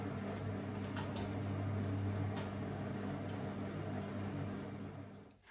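A kitchen robot mixes chocolate chip cookie dough with a steady low motor hum and whir, continuous and close, with faint knocks on top before it winds down at the end.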